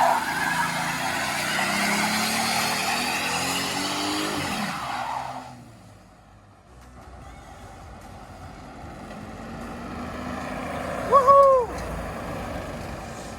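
A 2020 Jeep Gladiator pickup's engine drones and shifts pitch as it drives along a street, dipping briefly before revving up again, with a short squeal near the end.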